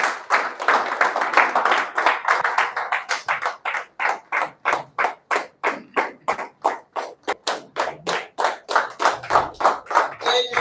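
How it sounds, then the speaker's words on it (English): An audience claps in a rhythmic unison beat, close and loud, with many hands striking together in steady repeated bursts for about ten seconds. "We're not clapping very well."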